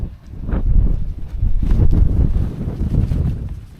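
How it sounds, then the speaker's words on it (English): Wind buffeting a large tunnel tent while camping, loose, saggy fabric flapping and rumbling close to the microphone in continuous irregular gusts, with no talk. "you're getting all of this flappy, saggy material when the wind flexes from side to side"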